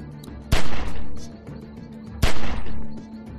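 Two loud, sharp gunshots ring out about two seconds apart in the video game The Walking Dead: Season Two, each with a booming tail, over a low background hum.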